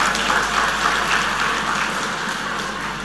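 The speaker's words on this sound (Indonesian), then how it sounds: "Berikan tepuk tangan pada semuanya." A dense, steady wash of audience applause at a religious gathering in Banten Lama, loud and unbroken throughout, like heavy rain on a roof, with no distinct voices rising above it.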